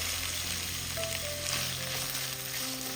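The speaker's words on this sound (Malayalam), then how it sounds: "ഇനി ഇതിലേക്ക് ഒരു വലിയ സവാള നീളത്തിൽ അരിഞ്ഞത് ഇട്ട് കൊടുക്കാം" Sliced onion hitting hot oil already frying ginger and garlic in a pan, a steady close sizzle with a faint stirring clink, continuous and alone with no voices.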